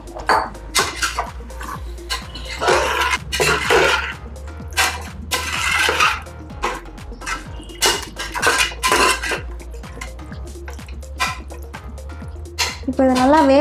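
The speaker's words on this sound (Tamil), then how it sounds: "இப்போ நம்ம வந்து ஊற வச்சிருக்க சிக்கன் எடுத்து போட்டுடலாம்" Marinated chicken goes into a pan of onions frying in oil, with clanking metal utensils, scraping and sizzling, and a voice talking over the cooking.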